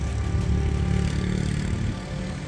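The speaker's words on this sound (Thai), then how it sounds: "เร่งเครื่องมาแล้วครับจอดอยู่พักหนึ่ง" Steady low diesel rumble of the GEK 4029 locomotive revving while parked on a curve near Bang Sue, a continuous throbbing drone that eases slightly toward the end.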